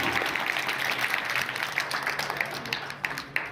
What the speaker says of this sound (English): Have a big round of applause for our patron, Haji Ghulam Rasool Bhat.